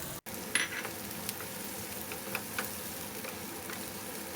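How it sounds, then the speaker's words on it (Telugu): Capsicum pieces stir-fried with egg in a pan give a steady sizzle under soft scraping and stirring, opening with a brief drop to silence. "బాగా కలుపుకొని ఫ్రై చేద్దాము తర్వాత ముందుగా కట్ చేసుకున్న క్యాప్సికమ్ ముక్కల్ని కూడా వేసి"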